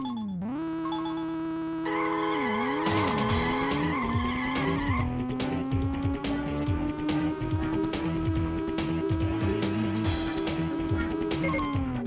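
Choro Q 2 on the PlayStation, a drag race in the video game: a toy-like car engine whines and climbs in pitch through gear shifts while tires squeal and skid, loud and continuous throughout.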